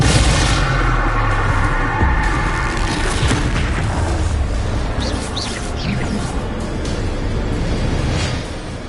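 Booming spell explosions from Confringo and Bombarda in Hogwarts Legacy, a loud continuous barrage of heavy blasts and bursts with crackling debris, fading slightly at the end.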